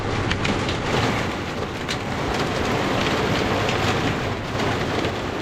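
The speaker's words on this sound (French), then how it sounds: "C'est comme de la grêle. Orage de grêle." Heavy, dense patter of hailstones drumming on a boat, loud and continuous with sharp clattering bursts throughout.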